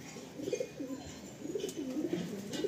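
A Madrasi pigeon coos in a loft, a soft run of repeated low burbling coos heard close but quiet, with faint room noise behind and no talking.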